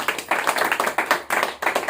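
A church congregation claps loudly together during a pastor's sermon, a dense burst of hand claps with brief dips and surges, close and energetic, with no speech over it.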